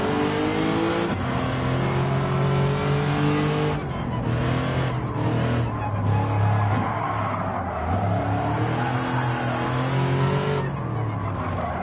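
A rally car engine in the video game Gran Turismo 7 roars and revs continuously, pitch rising and falling through gear changes, loud and close with no talking.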